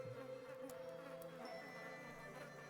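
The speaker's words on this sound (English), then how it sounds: "In this place, there's the sound of flies buzzing" Flies buzz inside a cage in a Nancy Drew adventure game set at Castle Malloy, a faint continuous insect drone with wavering tones lasting throughout, alone without voices.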